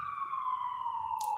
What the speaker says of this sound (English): I hear that siren.